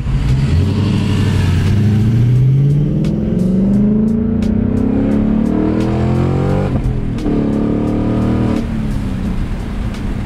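A Ford Mustang Mach 1 V8 engine revs continuously and loudly, pitch sweeping upward through the gears with automatic rev-matched blips on downshifts, heard from inside the car.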